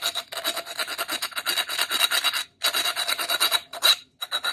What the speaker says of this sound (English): I'm going to use the file side to smooth out the curved edges here.